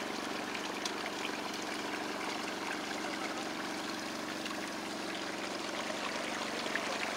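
Water runs steadily through a small RC gold mining trommel and down a sluice run, a continuous close, even wash and rush with a faint motor-like hum underneath and no talk.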